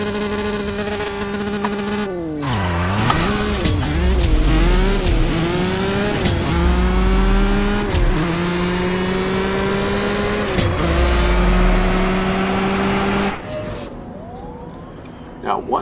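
Ferrari F12berlinetta engine in CSR Racing 2 revving hard through rising and falling pitch sweeps with sharp gear-change dips, loud and continuous for about thirteen seconds before cutting off.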